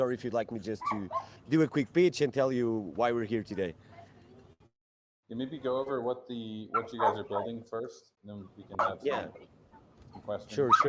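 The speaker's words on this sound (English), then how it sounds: "there's a dog here, just saying hi." A dog barks and yips intermittently in the background of a casual online hangout, mostly under steady conversation, with a brief bark between pauses in the talk.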